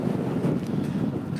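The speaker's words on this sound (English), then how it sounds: "whoa, it's windy." Strong wind buffets the microphone outdoors on a city street near NYU Hospital in New York, a steady loud low rumble of gusts with no one speaking.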